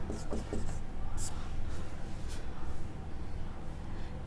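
Chalk or marker scratches across a board during a chemistry lesson, quick strokes in short bursts mixed with a teacher's voice speaking over them.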